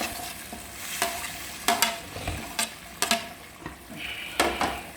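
Potatoes and eggs fry in a bubbling curry with a steady soft sizzle, while a spoon stirs and scrapes against the pan in repeated light knocks, close up.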